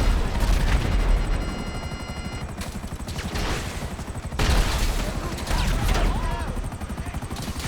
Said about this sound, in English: now you got people that aren't even in the mission shooting at you.